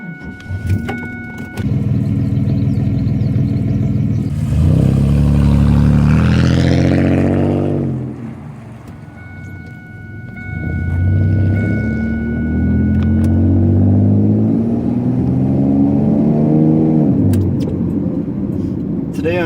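A 1999 Chevy Camaro base model with a 3.8 liter V6 starts up and revs, a loud close rumble that climbs and falls in two long rising sweeps before settling to a steady idle.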